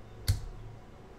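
One Enter key struck on a computer keyboard, a single sharp close click in otherwise quiet surroundings.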